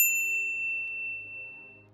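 A single bright notification-style ding rings out cleanly at the start, its metallic tone sustaining and slowly fading over a soft low musical bed, with no voices.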